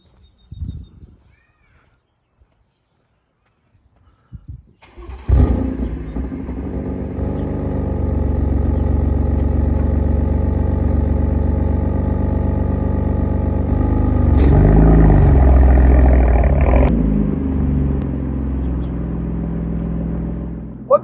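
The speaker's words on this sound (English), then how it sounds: "I'm actually driving my BMW M4 today." BMW M4 car engine idling and rumbling as it pulls into a garage, a deep steady low drone that starts abruptly, swells louder midway, then cuts off; quiet room noise before it.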